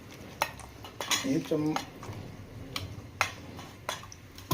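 Spoon clinking and scraping in a bowl while gram flour batter is mixed for Maharashtrian kadhi, a few distinct clatters and taps close by, no talk.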